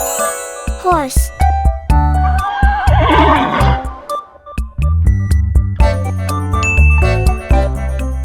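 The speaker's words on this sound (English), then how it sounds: "This is horse." A horse gives a loud, close neigh, a long wavering whinny in the middle, with jingling music and chimes around it.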